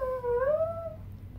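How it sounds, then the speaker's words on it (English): A dog howls in a long, wavering, rising then falling tone lasting under a second, heard at moderate distance indoors over a low background hum. "if you guys can hear that, that is my dog."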